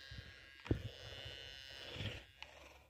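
A metal detector emits a steady buzzing drone, like a swarm of bees, running through the whole stretch with a few brief knocks and thumps over it, fairly quiet and close.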